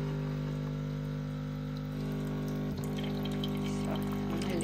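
Water runs steadily from a tap, refilling a container indoors, a constant close pouring hiss with no talk over it.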